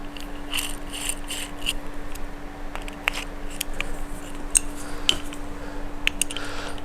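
Small screws being tightened into the motor mount of a TRX4 Power Wagon RC truck during a new motor and pinion install give soft, irregular clicks and ratcheting ticks over a steady low hum, close and fairly quiet.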